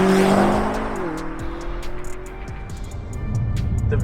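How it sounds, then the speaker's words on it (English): A 2020 BMW M5 Competition's V8 engine revs and shifts, its low, strong drone falling in pitch after about a second and then swelling again toward the end. The sound stays loud throughout, with no talk over it. "The V8 in this car does sound nice"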